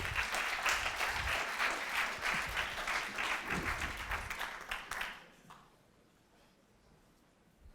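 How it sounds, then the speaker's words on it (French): An audience claps steadily for about five seconds, a dense burst of applause that then cuts off, leaving quiet room tone. "Vous pouvez l'applaudir."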